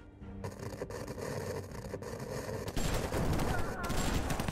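Rapid gunfire bursts in the video game Slay the Spire, a dense rattling fusillade that grows louder and harsher midway, sustained and noisy with no clear voice over it.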